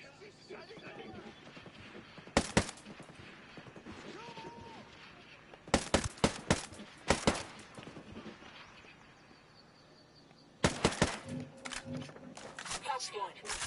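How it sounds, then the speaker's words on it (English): A minigun turret fires in Tom Clancy's Ghost Recon Breakpoint in three loud, rapid bursts separated by quieter stretches, with a voice talking between them. "Mini gun turret!"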